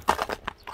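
Hooves of a horse clop along at a walk under a rider, a few close, uneven knocks spaced through a brief moment with no talk.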